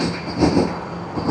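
The Puri–Kamakhya express rolls slowly past, a steady, loud, broadband rumble of wheels and carriages with faint rhythmic clatter and no voices.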